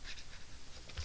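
A pen scratches briefly on paper as a number is jotted down in a seventh grade science classroom, a quick run of faint strokes lasting about a second.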